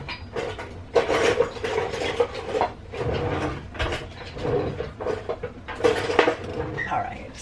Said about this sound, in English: Let me get my whisk.